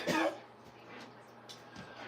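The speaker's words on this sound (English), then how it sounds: "I don't know why I'm coughing." A woman's single short cough or throat clear at the start, followed by quiet room tone with faint background sounds.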